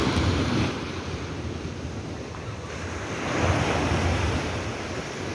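Strong ocean waves on a beach under stormy, rain-threatening conditions: a continuous loud roar of surf with heavy wind rumble, swelling again midway through, with no voices.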